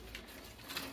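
A king pigeon gives a short soft coo close by, brief and fairly quiet against light background noise.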